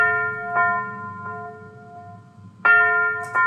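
A bell one-shot sample from an FL Studio beat for a hard Detroit-style track rings out alone with bright sustained harmonic tones, struck about four times, two strikes softer in the middle and two louder near the end.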